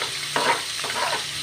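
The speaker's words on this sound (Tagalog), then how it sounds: "Ayan po, igigisa lang po natin siya." Food being sautéed in a hot pan for a budget home-cooked meal, a close, steady sizzle with a couple of scraping stirs.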